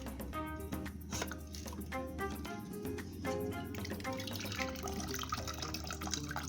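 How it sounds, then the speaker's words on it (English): Water drains and drips from freshly settled paper pulp held in a sieve during handmade paper making, a quiet, steady trickle broken by fairly regular droplet taps. "Water will be drained out."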